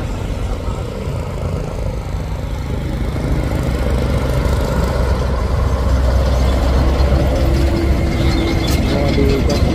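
A laden tanker truck labours up a steep hill, its engine droning loud and strained in a continuous heavy rumble with a slight rise in intensity toward the end.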